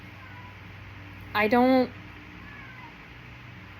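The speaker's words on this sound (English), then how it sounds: "I'm gonna let my cat inside so he stops yelling." A house cat yowls loudly to be let inside, one drawn-out meow close to the microphone, with a person speaking briefly alongside.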